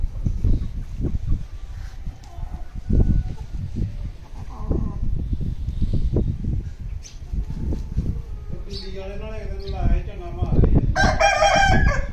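A rooster crows close by near the end, with two loud, drawn-out calls over a constant background of low thumps, rustling and clucking from farm fowl.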